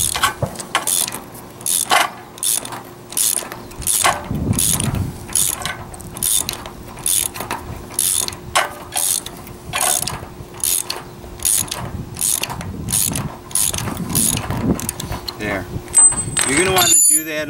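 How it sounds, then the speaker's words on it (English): A ratcheting wrench tightens a 5/8 nut on a fitting, making a long series of evenly spaced, close clicking strokes under steady talk. "you're going to want to bottom this 5/8 nut right out as far as it will take you. And I use it like a 9/16 wrench"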